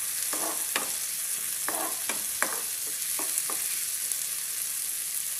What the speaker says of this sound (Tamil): சேர்த்து நல்லா ஃப்ரை பண்ணி விடுங்க.